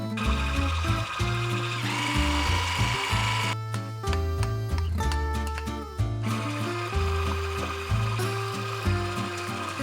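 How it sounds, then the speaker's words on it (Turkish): An electric mixer whisks four eggs and sugar in a bowl, a loud, continuous motor whir with pulsing, shifting pitch and rattling beater sounds throughout, close by with no talk. "Önce düşük ayarda, sonra hızlı ayarda iyice çırpacağım."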